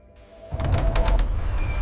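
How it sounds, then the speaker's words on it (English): A door slides or swings open with a soft thunk and low rumble, followed by a brief scraping and faint high squeaks as it moves. "And the door opens."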